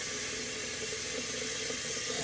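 Cold water runs steadily from a kitchen faucet into a container, a continuous even hiss and splash with no talking.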